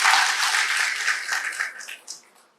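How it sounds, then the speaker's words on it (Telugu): Audience applause at a Telangana public gathering: a dense wash of clapping from a crowd, loud at first and then thinning out and fading over about two seconds. "మనం అందరం కూడా చప్పట్లతో కృతజ్ఞతలు తెలియజేస్తాం"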